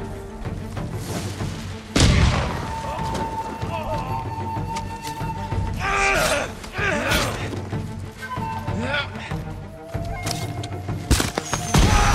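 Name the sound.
enemies shooting in the Ghost of Tsushima video game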